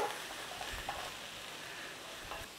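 Chopped leeks wilt in a pan with a faint, soft sizzle and occasional quiet stirring scrapes, low and steady throughout.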